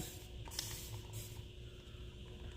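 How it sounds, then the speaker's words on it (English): A quiet hissing spray, with a few short spritzes from a spray bottle over a faint background hum. "So I'm just spraying it."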